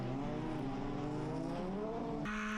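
Endurance race cars on slick tyres pulling away at a race start at the Barcelona circuit, a dense roar of engines revving and shifting up, steady and loud, with no talk.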